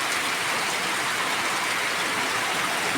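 Heavy monsoon rain pours down in Pali, Raigad, a dense, loud, unbroken roar of falling water with no gaps and no voices.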